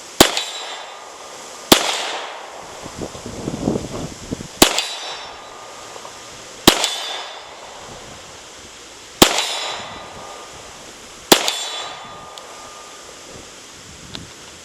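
Six sharp Glock 26 pistol shots fired at a steel target 42 yards away, each a loud crack with a ringing decay, spaced a couple of seconds apart, outdoors with faint wind and rustling between them.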